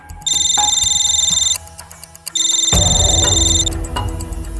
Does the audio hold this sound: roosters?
no